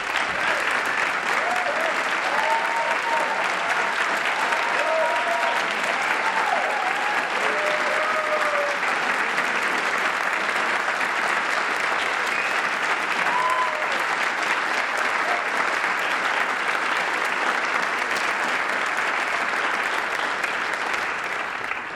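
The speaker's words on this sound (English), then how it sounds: "If you are a veteran of the United States military, could you please raise your hand or stand up so we can recognize you, give you a round of applause." Sustained, loud applause from an audience recognizing military veterans at a high school concert with an Air Force jazz ensemble, a dense steady wash of clapping lasting throughout with no break.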